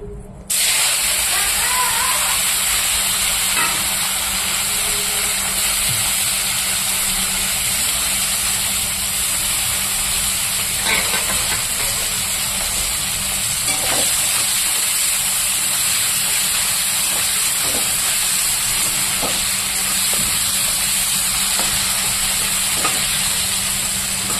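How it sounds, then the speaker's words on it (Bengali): Close, steady sizzle of dried fish frying in hot oil with nigella seeds: a continuous bright hiss with scattered small pops and crackles, no voices. "শুকনো মাছটাকে এবার আমি ভালো করে ভেজে নেব।"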